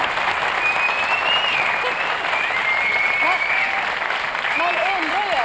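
Studio audience applause on a Swedish TV show, a loud, continuous wash of many hands clapping at an even level throughout, with a voice faintly audible over it.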